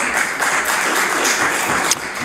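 A House of Assembly chamber fills with steady applause from the members, a dense wash of clapping that holds evenly for a couple of seconds before easing slightly at the end.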